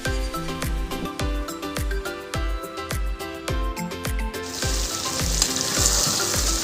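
Chicken for a chicken curry fries in a pan with a continuous sizzle, joined by regular clicking and thumping; the sizzle grows brighter toward the end.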